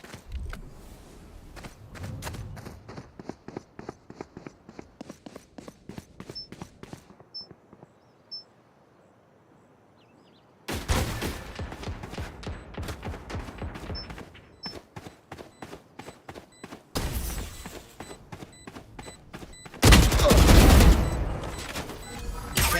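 Rapid gunfire from the Valorant video game comes in repeated bursts of sharp shots against a quiet background, with a louder, denser volley near the end and no voices.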